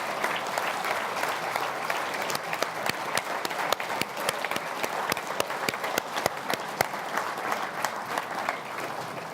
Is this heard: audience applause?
yes